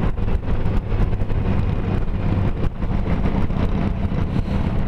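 A Honda Gold Wing motorcycle riding along a road, giving a steady engine drone and strong wind rush that stay loud and unbroken throughout.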